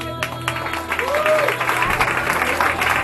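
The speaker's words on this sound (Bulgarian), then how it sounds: "Аплодисменти." Wedding guests applaud in a steady, dense wash of clapping that fills the clip, with crowd murmur and a brief voice mixed underneath.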